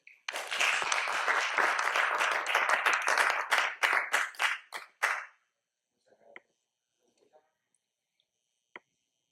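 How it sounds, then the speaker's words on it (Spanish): Audience at a lecture honoring Vallejo's Trilce applauding an introduced speaker: dense clapping that thins into a few scattered claps and stops, followed by near silence with faint small noises. "Un fuerte aplauso, por favor."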